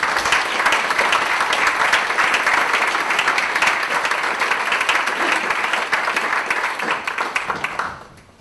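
A large audience breaks into loud, sustained applause for Diane Abbott as she takes the floor at a London evening talk, the clapping dense and steady for about eight seconds before quickly dying away.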